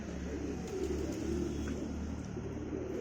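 Pigeons kept by a keeper coo softly in a low, continuous murmur, with a steady hum of background noise and a few faint chirps, no talking.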